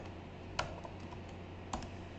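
Sparse typing on a computer keyboard, with two distinct key clicks and several fainter taps in between, heard quietly over a steady low hum.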